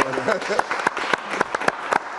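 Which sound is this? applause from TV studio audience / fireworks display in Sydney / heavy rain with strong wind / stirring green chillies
applause from TV studio audience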